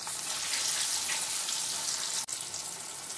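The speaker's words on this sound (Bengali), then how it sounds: "ভাজা হচ্ছে।" Dhoka lentil cakes fry in hot oil in a karahi, producing a loud, dense, continuous hiss and sizzle with one brief break near the end.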